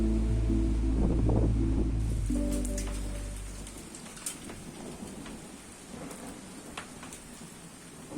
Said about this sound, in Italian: Comincia a grandinare.